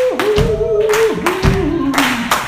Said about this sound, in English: Let me hear them Baptist claps.